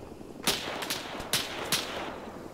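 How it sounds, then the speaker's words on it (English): Distant gunfire in the military game ArmA 3, several sharp cracks scattered over a couple of seconds, fairly faint against a steady background hiss. "Yeah, we are getting shot at."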